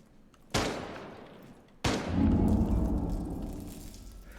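Two sharp gunshots crack out in a GTA 5 roleplay server, a single loud report followed a second later by a heavier blast that rings into a lingering rumble and echo.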